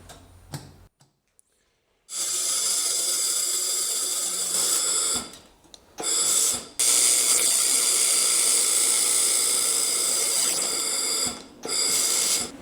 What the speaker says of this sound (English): So now let's try some welding.